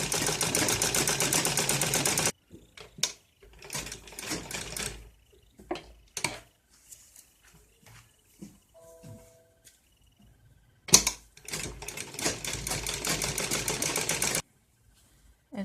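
A sewing machine stitches net cloth for a ladies' suit in rapid, even mechanical bursts, a long run at the start and another later, with scattered clicks and handling noises between them.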